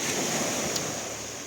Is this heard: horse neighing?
no